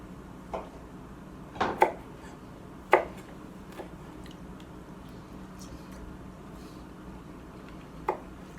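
A knife dices vegetables for tabbouleh on a cutting board in a quiet room, with a handful of sparse, irregular close chops and taps separated by pauses.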